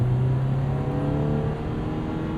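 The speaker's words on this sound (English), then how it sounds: "So you hear the 4-cylinder." The turbocharged AMG four-cylinder of a 2024 Lotus Emira hums steadily from just behind the cabin while cruising at an even, moderate pace, with a low drone and faint whir inside the car.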